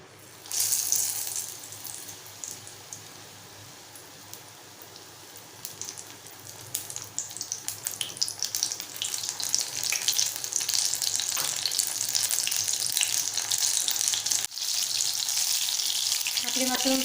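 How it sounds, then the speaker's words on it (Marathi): Battered wild mushroom bhaji dropped into hot oil, a quiet hiss that swells into a loud, continuous rain-like frying crackle lasting many seconds, close up and steady. "आता आपण तेलात सोडूया।"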